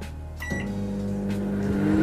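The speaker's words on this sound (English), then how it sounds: "I'm going to put it in the microwave and I will be back" A microwave oven hums steadily while melting soap base, its motor drone starting up with a low mechanical tone and rising slightly, close and continuous with no talk.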